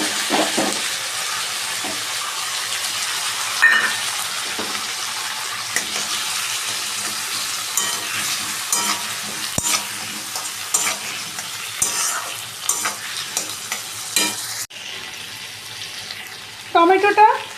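Ground tomato paste frying and being stirred in a pan, a steady close sizzle broken by repeated spoon scrapes, with a brief splash of water and a hint of voice near the end.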